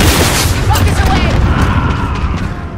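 Rocket strike explosions in Call of Duty Modern Warfare produce a loud, continuous booming rumble with rapid bursts and crackles layered on top, heavy at the low end the whole way through.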